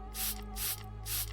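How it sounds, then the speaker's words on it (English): Three quick hissing bursts from a water spray bottle, evenly spaced about half a second apart, close and fairly loud over a steady low hum in a minigame setting. "I'm going to spray you with the water bottles"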